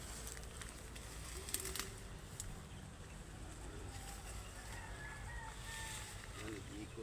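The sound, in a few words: chickens in a poultry yard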